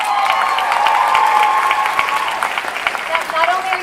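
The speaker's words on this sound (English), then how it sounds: "we get a round of applause for Odette" Crowd applause and cheering at a Supergirl Comic-Con panel welcoming a new cast member, loud and sustained in a large hall, with voices mixed in.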